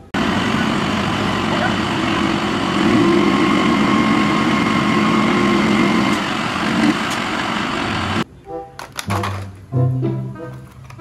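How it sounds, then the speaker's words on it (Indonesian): A toy sand truck's engine sound runs with a steady, loud droning rumble for about eight seconds, then cuts off abruptly, leaving brief scattered sounds. "Mobil truk pasir."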